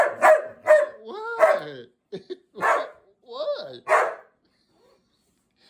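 A pet dog barks and yips repeatedly at a Shark Navigator vacuum cleaner indoors, a series of close, sharp barks with short gaps, while a person speaks briefly between them.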